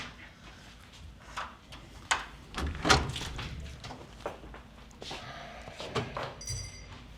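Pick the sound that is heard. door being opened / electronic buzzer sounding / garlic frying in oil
door being opened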